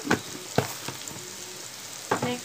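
Bitter gourd pieces sizzle in a pan with salt and turmeric while a spatula stirs them, giving a few sharp scrapes over a soft steady frying hiss, close by.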